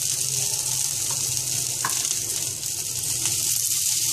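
Spices such as turmeric and sambar powder sauté in oil for a fenugreek-leaf kuzhambu, giving a soft continuous sizzle with a few light stirring scrapes, close and moderate, no talking.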